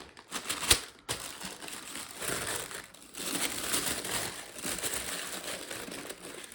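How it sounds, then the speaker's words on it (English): Pink logo-printed tissue wrapping paper from a Jordan 1 Low Travis Scott sneaker box, crinkled and rustled close up in steady bursts with one sharp crackle near the start. "Pink paper with all the logos."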